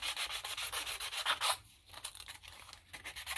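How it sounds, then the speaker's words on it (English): Sandpaper rasps along a paper edge while a junk journal page is distressed: quick, close, scratchy back-and-forth strokes, a brief pause, then lighter rubbing. "you're basically just using the sandpaper to cut it off"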